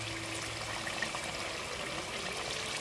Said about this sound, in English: Add in a small amount of water